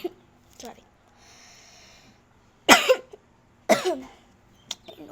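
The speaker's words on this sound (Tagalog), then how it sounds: "Inuubo ako" Two loud, harsh coughs about a second apart from one person indoors, with faint breathing and a throat sound before them and a short breath afterward.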